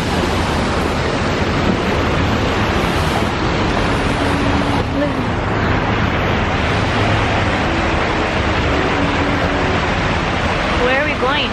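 Steady broadband rush of falling water fills the whole clip, constant and fairly loud, with faint voices and outdoor background mixed in.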